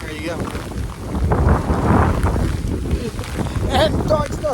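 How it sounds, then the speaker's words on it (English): A strong hurricane wind gust during Hurricane Milton, with rain setting in, roars and buffets the microphone in a sustained rushing surge that builds to a peak and holds loud for several seconds. "There's a good gust."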